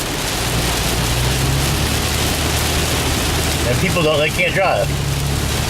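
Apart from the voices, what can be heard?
rain while driving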